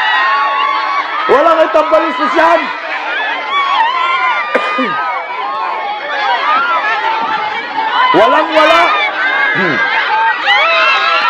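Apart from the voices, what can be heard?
crowd shouting at rally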